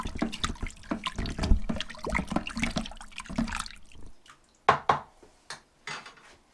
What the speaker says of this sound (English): using a sterilised spoon, stir the mixture until all the sugar is being dissolved into the water